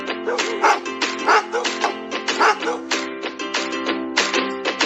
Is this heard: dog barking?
yes